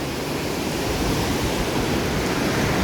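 Floodwater released from the Hirakud dam surges down the Mahanadi river in a loud, constant, broadband roar of rushing water, steady and unbroken throughout.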